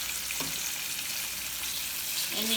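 Eggplant slices frying in oil in a pan for eggplant parmesan: a steady, close, continuous sizzle with a couple of brief scrapes as the pieces are turned, and no voices.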